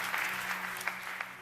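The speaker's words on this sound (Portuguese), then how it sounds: "Você pode aplaudir ao Senhor, querida?" Applause from a church congregation during a Portuguese-language worship service, a steady wash of many hands clapping at moderate distance with a faint tonal hum underneath, filling the short moment without any voices.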